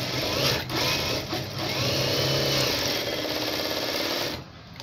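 A sewing machine stitching a lined blouse with a half-inch seam allowance runs in a loud, steady mechanical whir, with a couple of brief pauses and a slowdown at the end, no voices.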